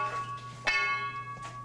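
An iron bar taps the rock wall inside a Bendigo mine, giving one sharp strike followed by a clean, sustained bell-like ring that hangs over a steady low hum.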